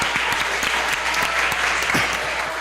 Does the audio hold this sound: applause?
yes